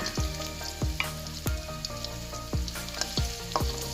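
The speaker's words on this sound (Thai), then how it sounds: "ผัดแครอท กับกระเทียม จนแครอทใกล้สุกแล้วนะคะ" Carrots and garlic sizzle continuously in a pan while a spatula stir-fries them, scraping and knocking the metal in a fairly regular rhythm, about every half second.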